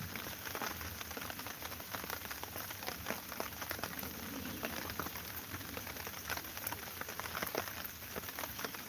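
Rain falling steadily in the backwoods, a dense even patter of drops on surfaces, quiet and constant with no talking.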